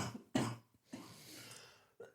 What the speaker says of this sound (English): I'm sorry, coughing fit